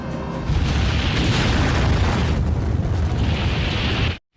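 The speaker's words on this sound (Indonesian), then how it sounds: "Jepang mengalami kerugian yang sangat parah akibat Amerika menjatuhkan bom atom di 2 kota penting di Jepang." An atomic bomb explosion in a war film rolls out as a loud, sustained roar of deep rumble and hiss that holds steady for about four seconds, then cuts off abruptly.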